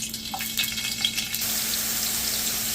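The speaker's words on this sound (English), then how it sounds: "So once your oil is heated, you're gonna add your onions in there." Onions hitting hot oil in a pot, a bright sizzle that swells after a few light clatters and then holds as a steady, close frying hiss.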